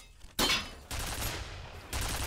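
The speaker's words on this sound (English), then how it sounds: "sentry gun on the left" An automated sentry gun turret fires in a monster-themed shooter game, loud sustained bursts of rapid shots in two or three long stretches separated by brief gaps, with no talk over them.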